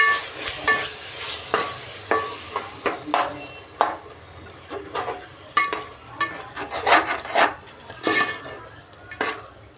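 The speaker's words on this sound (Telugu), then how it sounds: "ఇప్పుడు పెరుగు వేసుకుందామండి. ఒకసారి బాగా మిక్స్ చేసుకుని" Yogurt being stirred into biryani masala in a pan, giving a steady run of scraping, rasping strokes and wet squelches with an irregular rhythm, close and moderately loud, with no talk.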